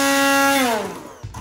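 Immersion blender whirring in a pot of beer cheese soup, a loud steady motor whine that drops in pitch as it slows and stops, followed by a brief clatter.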